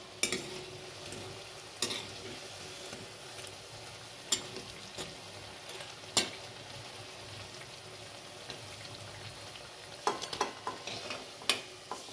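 Mustard flower fritters sizzle softly in oil for a long stretch, punctuated by scattered sharp clicks and scrapes of a utensil against the pan.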